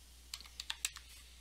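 Several quick keystrokes on a computer keyboard, a short burst of light, close clicks, faint and without talk.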